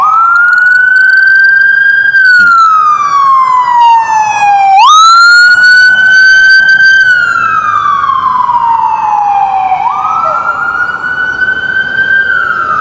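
A loud emergency vehicle siren in Fort Lauderdale wails continuously, sweeping slowly up and down in pitch, close and dominant throughout.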